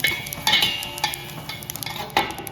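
Flaxseed roasting in a pan is stirred with a utensil, giving close, continuous scraping and ticking with a few sharper clinks at irregular intervals over a faint dry sizzle.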